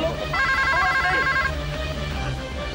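A telephone rings indoors during a tense domestic drama scene, a warbling electronic ring lasting about a second over a steady bed of background music and room noise.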